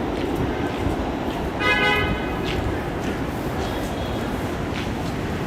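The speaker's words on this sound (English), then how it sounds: "You hear the subway? That's my train." A New York subway train rumbles through Manhattan in a loud, steady roar, with a brief tonal squeal or toot rising near the middle over constant city noise.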